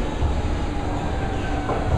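A Berlin S-Bahn train pulls into the station with a steady, loud rumble of wheels and rail noise filling the platform, with no voices over it.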